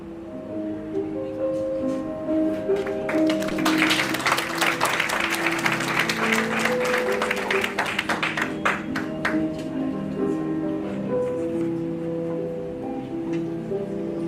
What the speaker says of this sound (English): Another clap for Kamoso and team.